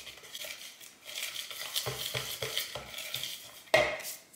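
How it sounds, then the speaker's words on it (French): Pancake batter being whisked in a bowl just after yeast goes in, giving a steady run of scraping, clinking strokes against the bowl's sides and a louder knock near the end, with no speech. "Et je mélange."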